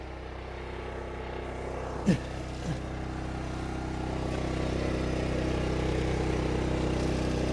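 A portable generator's steady engine drone runs throughout, loud and close, with a couple of brief sharp sounds early on.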